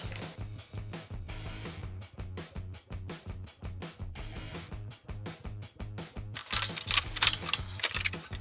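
Tightening an anti-roll bar bush bracket bolt on a Mercedes C-class, a steady run of close ratchet clicks in quick regular rhythm, growing louder and harsher toward the end.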